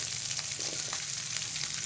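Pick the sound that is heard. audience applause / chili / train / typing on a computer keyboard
chili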